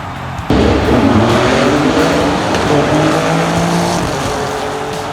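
A Hot Wheels diecast Renault Sport RS01 rolling down a plastic track, giving a loud, continuous rumbling roar that starts suddenly and holds steady for several seconds before easing off slightly.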